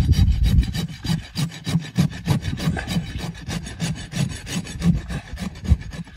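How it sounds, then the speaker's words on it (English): A farrier's rasp corner roughing and cleaning a horse's hoof wall, giving rapid rhythmic gritty strokes, loud and close, with no voices. "I'm gonna use the corner of my rasp here to both rough and clean"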